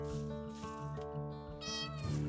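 Cats that make a hideout at an old modern-era house in Gunsan, South Korea, give drawn-out, plaintive meows, soft and somewhat distant over a steady background hum.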